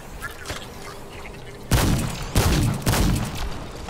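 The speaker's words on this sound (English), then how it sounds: "I can shoot from far" Game gunfire from Remnant 2, a few heavy shots and blasts in the second half, loud and close, following quieter rumbling game ambience with faint clicks.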